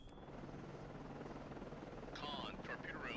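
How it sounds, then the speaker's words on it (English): A helicopter in the submarine video game Cold Waters drones steadily with a low rotor rumble, joined near the end by a short burst of radio-style game voices. "We need to get our helicopter out here quick and in a hurry and sink this guy"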